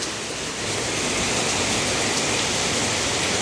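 Heavy rain falls in a dense, unbroken hiss that stays loud and even throughout, with no voices over it.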